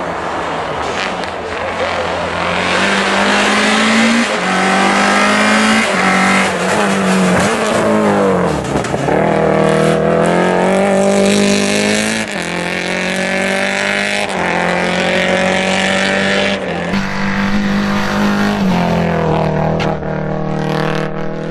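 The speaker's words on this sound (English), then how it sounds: "We got through that stage on 3 cylinders." Peugeot 106 Rallye rally car driving a stage while running on only three cylinders, its loud, close engine droning steadily with rising and falling revs, and a voice speaking over it.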